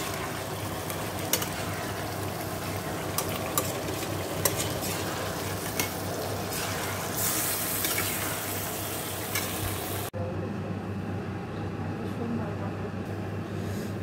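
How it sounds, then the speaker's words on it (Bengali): Chicken being sautéed down in a pan for kosha, a steady frying sizzle broken by frequent scraping clicks of a spatula, with some background talk and a sudden drop in brightness partway through. "দেখো চিকেনটা কষাচ্ছি"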